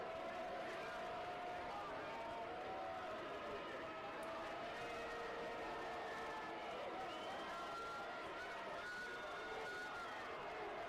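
A crowd at a Division III college football game between Hanover and Franklin roars in a sustained, distant wash of cheering and shouting, steady throughout with a commentator's voice intermittently over it.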